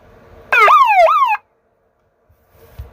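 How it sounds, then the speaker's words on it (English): A siren under test wails alone in two quick rising-and-falling sweeps, loud and close, then cuts off abruptly into near silence. "Okay, yeah, that's a siren"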